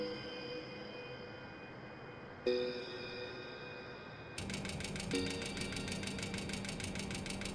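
Aircraft engines in Microsoft Flight Simulator give a steady, faint mechanical drone that shifts pitch in steps, with a buzzing higher layer joining partway through; no talking.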